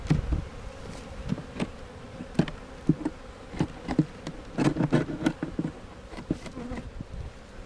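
Honey bees buzz loudly after being shaken off a hive frame during a split, a dense swarming hum punctuated by sharp knocks and taps of frame and hive wood, close and busy throughout.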